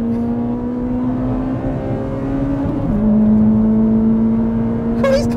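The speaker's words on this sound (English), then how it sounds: "Oh, his car's fast!" A 280 bhp naturally aspirated Honda Civic Type R FD2 with a K20A VTEC engine drones with a steady pitch that drops briefly as it shifts gear, then climbs again as it accelerates, loud and close.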